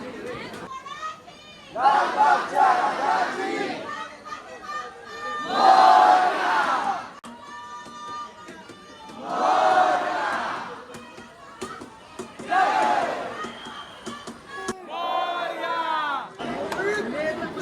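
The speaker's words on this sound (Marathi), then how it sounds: "गर्दी बघा गर्दी किती आहे दर्शनाला" Dense crowd of devotees queuing for Lalbaugcha Raja darshan in Mumbai, with waves of loud collective chanting and shouting rising and falling over constant background chatter, including nearby voices.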